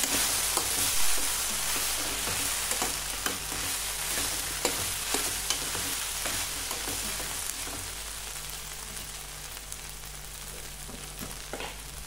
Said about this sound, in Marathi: दोन मिनिटं भाजी वाफवून घेतली। मिक्स करून घेऊ।